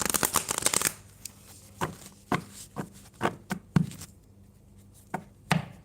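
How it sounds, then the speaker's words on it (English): A deck of cards is riffled and shuffled several times: a dense burst of fluttering card snaps at the start, then scattered short riffles and taps at irregular intervals, close and fairly quiet, with no speech. "let me shuffle the stack, or the deck"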